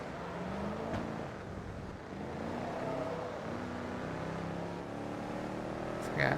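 A muscle car's rear-wheel-drive engine in the racing video game Forza Motorsport 2 drones at a steady pitch with gentle rises and dips, lasting throughout, while someone talks over it.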